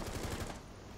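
Rapid automatic gunfire in the video game Rainbow Six Siege during a team deathmatch hostage round on the Kafe Dostoyevsky map, a brief, faint, muffled burst of shots.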